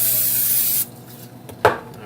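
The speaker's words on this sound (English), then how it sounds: "take your frying pan, spray it with Pam" Pam cooking spray hisses steadily onto a frying pan for just under a second, then cuts off, leaving near quiet broken by a brief clunk of the can or pan.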